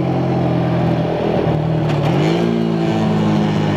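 A 90 cc Chinese quad ATV engine drones while ridden, a loud buzzing hum that climbs in pitch partway through as it accelerates or shifts, and no one talks.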